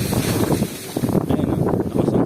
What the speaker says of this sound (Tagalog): Ayun o, lakas ang hangin o, lakas ang hangin dito.